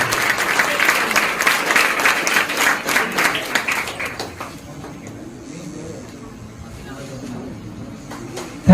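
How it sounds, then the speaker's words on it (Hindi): An audience at a maths event gives loud, dense applause to welcome guest Nitish Pandey, and the clapping fades after about four seconds into a quieter room with a few scattered claps. "जोरदार तालियों के बीच स्वागत करेंगे नीतीश पांडे सर का।"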